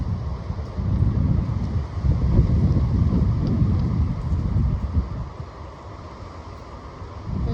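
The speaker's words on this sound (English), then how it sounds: "it's very windy out here" Strong gusty wind rushes and roars outdoors after a windstorm, buffeting the microphone with a deep, loud rumble that swells and eases, with no talk heard.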